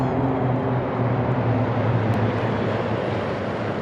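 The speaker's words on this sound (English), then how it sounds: "supported by 2 Oryx medium utility helicopters on the wings left and right, and in the middle, and Super Lynx 300 M64 maritime helicopter aircraft" Oryx medium utility helicopters and a Super Lynx 300 maritime helicopter fly overhead at a presidential inauguration ceremony, a continuous loud droning roar that stays steady throughout without talk.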